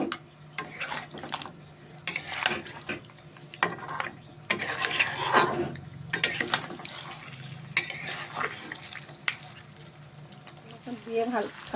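A spoon scrapes and stirs cashew paste into yogurt chicken in a pan, with rhythmic rubbing strokes and a soft sizzle underneath, while someone speaks at intervals.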